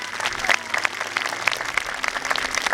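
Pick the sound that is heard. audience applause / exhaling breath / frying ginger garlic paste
audience applause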